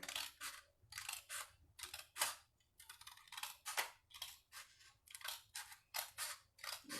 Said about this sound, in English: you're going to cut along that line that you just drew